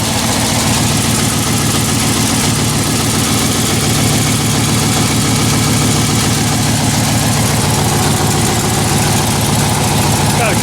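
A Jeep Scrambler engine idles loudly and steadily with a small exhaust leak, giving a continuous close rhythmic chug with a slight puffing rasp throughout.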